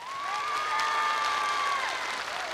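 Clapping from a Korean variety show audience rises into a full, even round of applause, joined by a high sustained whoop or whistle near the middle.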